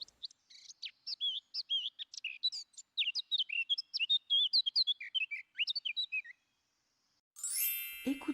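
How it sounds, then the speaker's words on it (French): A warbler sings a rapid, bright, continuous stream of twittering notes, clear and close, for about six seconds before stopping, followed by a brief burst of noise. "Écoute attentivement le chant de la fauvette."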